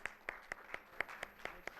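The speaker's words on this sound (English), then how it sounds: "So with a huge round of applause" Sparse, faint claps at an inaugural ceremony of an engineering conference, roughly eight sharp hand strikes at an even pace, distant and thin.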